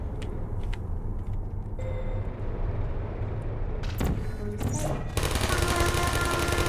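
Turrets in the video game Portal open fire in rapid, rattling bursts over a low game hum, the loudest volleys crackling sharply in the last couple of seconds.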